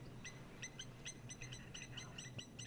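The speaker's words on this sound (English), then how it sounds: "you'll hear the blacksmith lapwings as well" Blacksmith lapwings and doves calling outdoors in a wildlife setting: repeated sharp, metallic chirping calls in quick irregular bursts, moderately near, over a low steady background hum.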